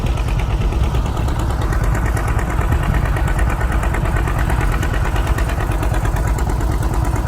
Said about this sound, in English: I don't mind the sounds of that 2-cylinder putt